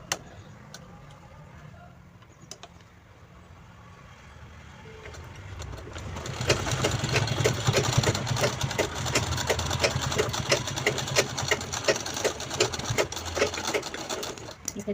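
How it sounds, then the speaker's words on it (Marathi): Sewing machine stitching fabric for a small purse, starting quiet with a few clicks, then a fast steady rattling run of stitches from about six seconds on, close and alone. "हे बघ आता या साईडने देखील आपण डाब स्टिच देऊन घेऊया"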